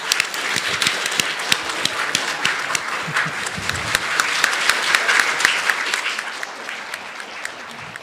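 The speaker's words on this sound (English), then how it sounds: "Let's have one more round of applause for the 7 to 8 category." A crowd at a children's speech competition claps for the 7 to 8 year old champions, steady dense applause running throughout with a few sharper individual claps and faint voices underneath.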